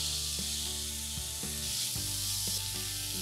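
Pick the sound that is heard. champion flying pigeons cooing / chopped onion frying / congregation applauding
chopped onion frying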